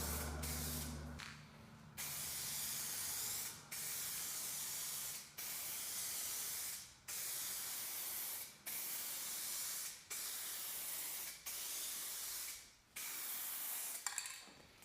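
Spray gun laying a gray paint coat on a car part for a 2022 WRX, a loud continuous hiss in repeated passes of about a second and a half each, separated by brief pauses.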